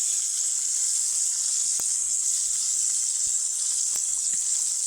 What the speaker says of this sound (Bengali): মাছগুলো হালকা ভাজা হয়ে গেছে, মাছগুলোকে উল্টিয়ে দিতেছি ভালো করে।